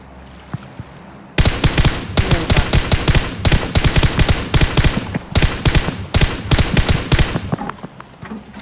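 Rapid bursts of automatic gunfire from the PUBG Mobile video game, loud and close, sustained in repeated volleys after a quiet opening, with no talk over it.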